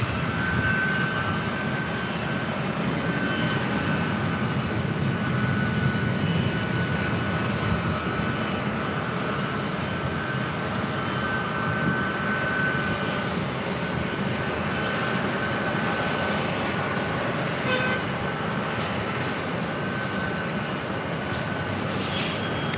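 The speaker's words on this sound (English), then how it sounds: "Next arrival is Delta Airlines Flight 2345, coming in from Portland," Delta Airlines Airbus A319 arriving at Los Angeles International Airport, its engines a steady, continuous roar held at an even level for the whole stretch, with no voices over it.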